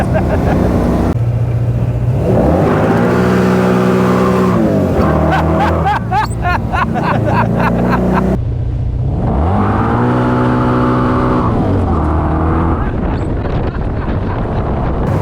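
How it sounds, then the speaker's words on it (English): An AC Cobra roars as it accelerates hard through the gears, loud rising engine sweeps broken by gear changes with crackling exhaust pops, heard close with wind buffeting the microphone. "That pop out, that exhaust."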